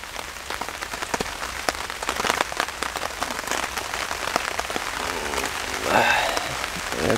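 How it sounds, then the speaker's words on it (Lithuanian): Steady rain falling outdoors by the water during pike fishing with a bottom rod, a dense patter of drops on surfaces with scattered sharper taps, holding an even level throughout with no speech. "Ir ką, ir pradėjo liet lietus."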